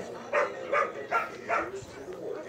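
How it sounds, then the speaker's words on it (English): Several dogs barking in a quick run of four or five sharp barks, moderately close, in an outdoor backyard setting. "Them dogs over there."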